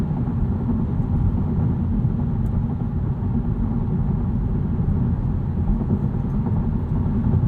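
A 2022 Honda Civic Touring sedan cruises in eco mode, heard from inside the cabin as a steady, even low rumble of engine and road noise with no voices.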